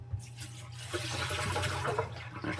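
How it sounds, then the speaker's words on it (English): Filtered water pours over pinto beans in a pot, a soft continuous splashing and trickling stream, fairly quiet and close, with no talk. "We are just going to pour water to the top of the beans, just a little bit above them"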